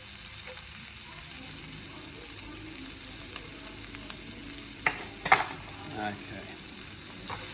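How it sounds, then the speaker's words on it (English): Garlic sizzles and fries in a hot pan, a steady crackling hiss with a few sharper scrapes as it is stirred, and a brief word spoken over it. "Just quickly stir that garlic through."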